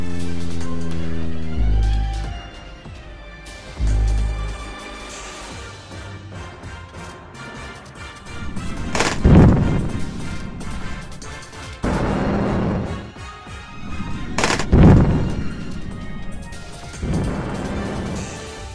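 Naval gunfire booms in the Kantai Collection video game, heavy cannon blasts striking twice over loud orchestral battle music, with crashing impacts.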